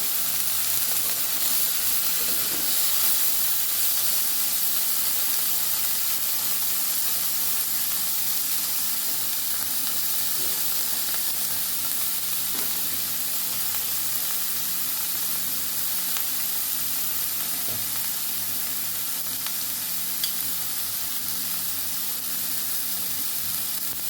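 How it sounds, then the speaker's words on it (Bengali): Cauliflower florets fry in hot oil in a pan for a Bengali cauliflower and potato dish with broken lentil dumplings, a steady loud sizzle and hiss that carries on unbroken with no talking. "কপিগুলো আমি একটু ভালো করে ভেজে নেব"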